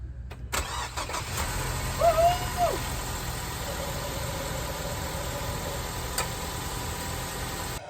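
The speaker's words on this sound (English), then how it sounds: "We're gonna go give this a start," A Ford Focus with a dual clutch transmission cranks and starts, its engine catching after a brief whir and settling into a steady, close idle that drones on evenly, with a faint tonal whine above it.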